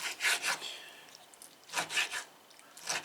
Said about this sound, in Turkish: kapya biber mezesini yapmak için temizlik bittikten sonra bu şekilde ince ince kesiyoruz